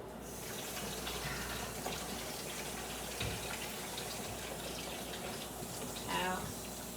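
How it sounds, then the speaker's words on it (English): Water runs steadily from a home kitchen tap during handwashing, a continuous mid-level splashing hiss with a soft voice briefly audible underneath and a louder gush near the end. "let me wash my hands."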